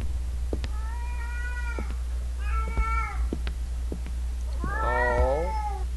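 A cat meows in the horror video game Erie: three drawn-out, wavering meows spaced a second or two apart over a steady low hum, the last one longest and most plaintive, with no talk.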